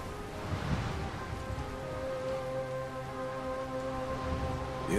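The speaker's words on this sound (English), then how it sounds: "It's raining." Rain falls steadily in the video game Dying Light, a soft, continuous patter of drops with a faint low rumble underneath, moderately quiet and unbroken throughout.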